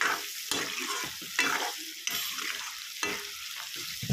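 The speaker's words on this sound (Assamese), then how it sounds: "ভাজি ল'ম এতিয়া, ভালকৈ ভাজি ল'ম" Meat frying in a pan with ginger and garlic, crackling sizzle punctuated by repeated scraping stirs about every second, no voices.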